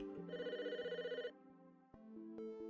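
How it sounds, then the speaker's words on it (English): A telephone rings in the Famicom Detective Club detective game, an electronic warbling ring tone followed by a steadier chiming tone, clear and alone. "The phone's ringing."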